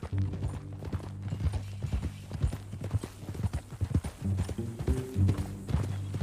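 Horse hooves clip-clopping at a steady walking rhythm in Red Dead Redemption 2, close and clear, with a brief whinny and low rumbling tones underneath.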